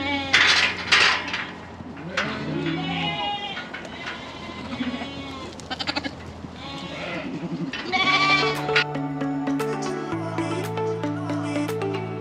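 Sheep bleat again and again, close and loud, with lambs among the flock; wavering calls overlap in an irregular rhythm with no speech.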